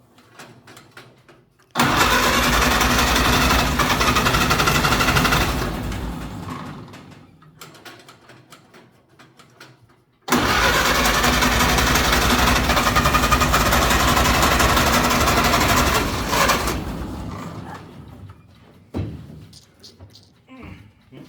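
A Ford Model A engine roars loud and close in two long bursts of several seconds each, running hard then dying away, with quiet gaps between where a few people talk.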